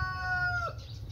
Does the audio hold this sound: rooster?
yes